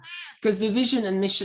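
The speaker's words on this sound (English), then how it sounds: "I apologize for my cat that's joining the conversation" A house cat meows loudly and close during an online meeting, a drawn-out, rising cry that overlaps a person talking.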